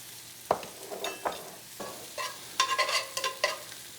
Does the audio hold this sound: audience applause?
no